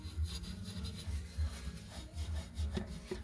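Wire wool rubs a small ring at the end of a pipe during a coal fire back boiler removal, making a faint, rhythmic back-and-forth scraping in short, even strokes.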